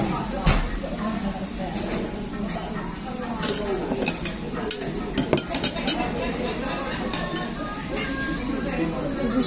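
Spoon clinking against a bowl while food is crushed and stirred, scraping and tapping in quick irregular bursts close by, with people chatting over it in a shop serving nābēra nbushī, a loofah stew.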